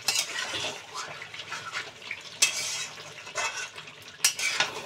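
A spoon stirs yogurt chicken with potatoes in a pan, giving close scraping and clinking strokes with faint sizzling underneath, in uneven bursts.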